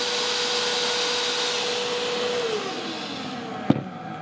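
A vacuum, a drill, a can opener and a diesel heater all run together off a portable power station, making a steady broadband whir with a motor tone that slides downward, then a sharp click near the end.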